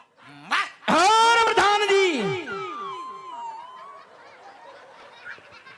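At a live Ramapir devotional akhyan performance, a performer's voice imitates a dog with a few sharp barks followed by drawn-out whining yelps like a puppy, loud and close, trailing off into softer sounds.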